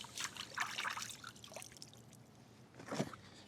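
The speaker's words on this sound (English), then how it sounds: "We'll give it one more little rinse." Water trickles and splashes in short bursts as freshly caught mangrove fish such as mojarra, snapper and grunt are rinsed outdoors near an inflatable boat, a few quiet pours with pauses between them.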